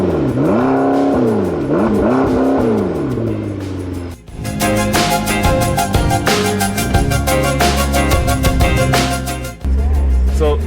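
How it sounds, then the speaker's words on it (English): A McLaren 650S sports car's 3.8-liter twin-turbo V8 engine revs hard and close, with rising and falling surges, then a sustained loud roar that briefly cuts out before returning. "Oh, that's V8, right? V8. It sounds phenomenal."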